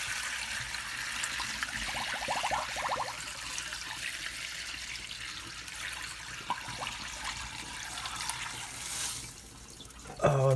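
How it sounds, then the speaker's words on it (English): Liquid from soaked wild bird seed is poured through a strainer that catches millet, a steady trickling and splashing stream that runs for about ten seconds. "But see, now we could just pour this one through."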